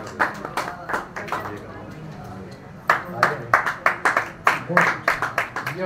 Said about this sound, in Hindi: अरे ढंग से ताली बजा दो